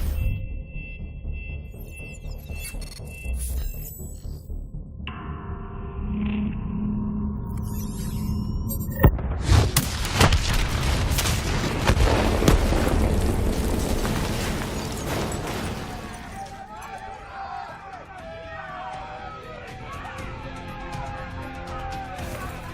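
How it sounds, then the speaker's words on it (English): In the video game Call of Duty: Black Ops 3, a detonation erupts as a loud, sustained explosive roar lasting several seconds, then fades into rumbling debris amid game effects. "Detonate now!"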